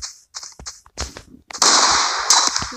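Rapid SMG gunfire in a video game, starting with short clipped bursts before a loud continuous stream of shots near the end.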